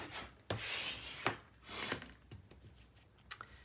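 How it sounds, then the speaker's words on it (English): Paper is burnished onto a mini album page with quick, close rubbing strokes, several short scraping passes separated by sharp taps, fairly quiet and with no talking. "Burnish this."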